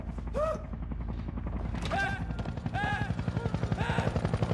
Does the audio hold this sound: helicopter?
yes